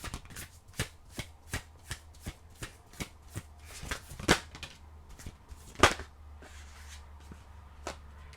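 Tarot cards being shuffled by hand in a quiet room, a rapid regular series of soft riffling slaps, close and distinct, with a couple of sharper snaps partway through.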